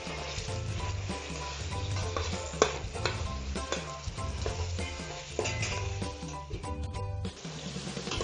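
Shrimp sautéing in a pan for Ilonggo ginataang takway or gabi, with a steady sizzle and frequent stirring scrapes and clicks across the clip, a low hum running underneath.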